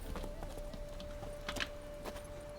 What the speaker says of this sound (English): Atı çağır.